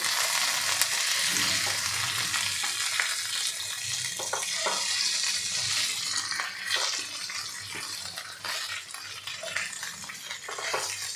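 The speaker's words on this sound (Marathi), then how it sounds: "झाकण काढून घ्यायचं आणि त्यानंतर आपल्याला ही हलक्या हाताने मिक्स करायची आहे" Stuffed okra with masala being gently mixed in a pan, a continuous close sizzle with soft scraping and stirring knocks scattered throughout.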